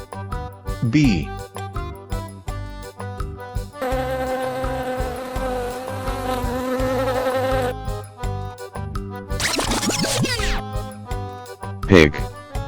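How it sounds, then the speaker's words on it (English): A bee buzzes in one steady, droning hum lasting about four seconds over light children's music, with short cartoonish sound effects before and after. "Bee."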